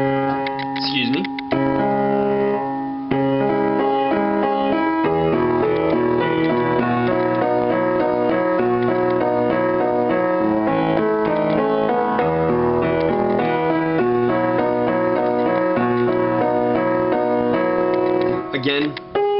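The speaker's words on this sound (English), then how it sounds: "with the right hand, we're going to be playing a pretty complex melody" A complex right-hand piano melody from a song runs over left-hand broken chords. The playing is dense and continuous for about nineteen seconds, with a brief pause early on and no talk over it.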